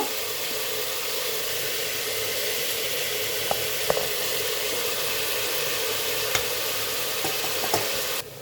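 Chopped tomatoes and green chillies sizzle and crackle in a hot pan for a vegetable soup, a dense, even frying hiss broken by a few soft stirring clicks and no talk.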